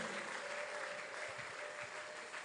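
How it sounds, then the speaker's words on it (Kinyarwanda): A church congregation claps together in a steady, sustained burst of applause, fairly distant and even throughout. "dukomere Imana amashyi menshi cyane"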